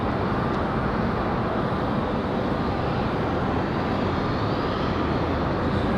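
A FedEx jet takes off at Raleigh-Durham International Airport, its engines making a dense, continuous, loud rumbling roar that stays steady the whole time.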